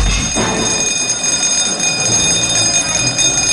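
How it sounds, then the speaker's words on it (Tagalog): A loud, continuous ringing fire alarm bell with a harsh metallic buzz during an earthquake drill, sustained throughout over some background rumble. "Sa udyat ng fire alarm"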